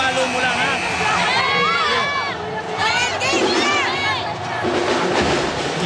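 A packed UAAP volleyball crowd at an Ateneo versus La Salle match cheers and roars. Whistles and noisemakers rise over the steady din, and commentators talk over the noise.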